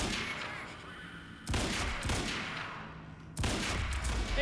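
Gunfire in the shooter Quantum Break: dense, loud bursts of rapid shots that come in two sharp surges over a continuous roar of firing, with no talking.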